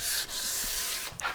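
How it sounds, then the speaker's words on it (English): Light hand sanding on wooden loom beams gives a steady, close scratchy rub, broken by a short pause and then a few quicker strokes. "just a little bit of light hand sanding, and that should be it"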